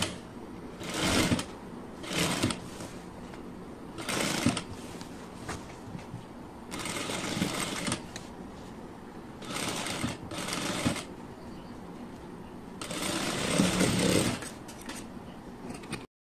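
A domestic sewing machine stitches the back neck cross piece of a blouse in several separate bursts, each a second or two long, with quieter pauses between runs. The machine sounds near and clear, and no one speaks.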